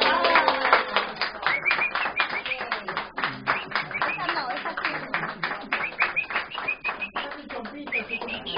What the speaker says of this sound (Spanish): aplauso para la reina